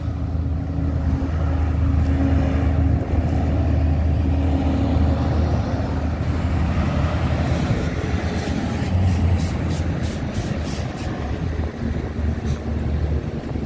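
Heavy, slow traffic on the BR-365 highway at the 452 junction in Uberlândia, jammed by a broken-down truck, fills the scene with a continuous engine rumble and passing vehicles, a few faint high tones near the end, and no talk.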